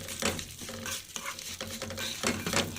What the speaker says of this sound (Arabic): هنشوحها ونديله اللون الذهبي البسيط ده